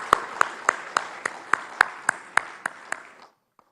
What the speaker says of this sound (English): Can we also please have a loud round of applause?